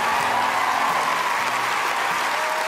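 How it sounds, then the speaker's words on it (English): Steady, close crowd applause welcoming an interpreter at a talent-show taping, a dense even wash of clapping for the whole stretch with no talk over it. "Big round of applause for Daniel."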